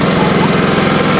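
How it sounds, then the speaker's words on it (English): A 1986 Honda HT3810 lawn tractor's engine runs loud and close after being throttled down, a steady, rough, even drone with no other sounds over it. "I like to throttle it down a little bit and then turn it off pretty quickly."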